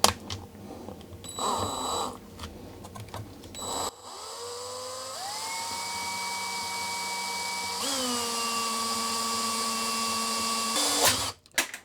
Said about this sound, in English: I have a 10 millimeter drill here